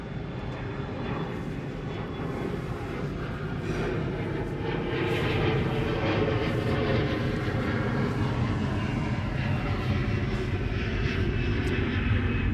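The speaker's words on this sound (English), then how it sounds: "One Delta plane pulling in and pushing out." A Delta airplane taxis at LAX airport with a steady, loud engine roar that swells slightly and holds throughout, with no voices.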